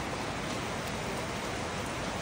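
Steady rain from a typhoon falls in a dense, continuous hiss with no voices, an even wash of droplets throughout.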